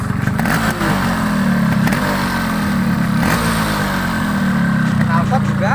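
A 2004 Yamaha RX King two-stroke motorcycle on its original stock exhaust revs steadily, with a loud, close, continuous engine roar and rising and falling pitch sweeps that carry through the whole stretch.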